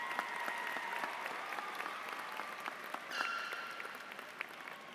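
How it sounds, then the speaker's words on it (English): A high school graduation audience applauds for the parents with dense, sustained clapping spread across a large space, and faint crowd voices and whoops under it. "Please give a huge round of applause to your parents, relatives, family members,"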